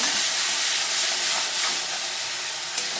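Tomato paste hitting a hot pan gives a steady, bright sizzle and hiss that holds close and loud throughout, with no talking over it.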